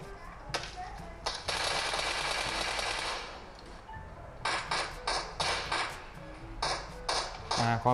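Gunfire in PUBG Mobile on a Realme 5 Pro, with rapid automatic bursts and separate sharp shots that come and go while someone talks over them.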